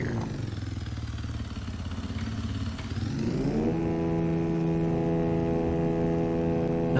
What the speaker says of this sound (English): not sure why he revs the motor when he backs up